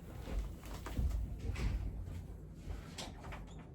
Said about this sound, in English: My cat is clawing at the door.